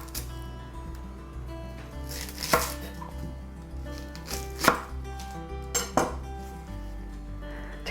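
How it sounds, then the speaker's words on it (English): A knife minces an onion on a cutting board, giving several sharp, close chopping knocks spaced over a steady musical background, with no talking. "We'll start by mincing 1 onion."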